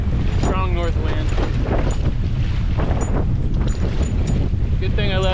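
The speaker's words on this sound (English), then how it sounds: "Strong north wind." A strong north wind on a lake buffets the microphone with a loud, constant low rumble, while a person talks over it.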